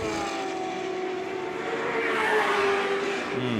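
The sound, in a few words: race car engine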